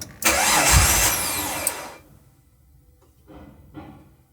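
Car engine cranking loudly for about two seconds, briefly catching with a rough burst but failing to start, followed by quieter faint mechanical noises; close and alone.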